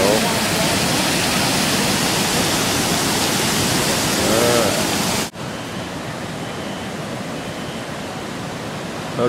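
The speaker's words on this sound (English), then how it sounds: "There's the waterfall over there." Rushing waterfall beside a flood-damaged mill in Vermont, a steady broadband roar throughout that drops abruptly to a quieter, more distant wash partway through.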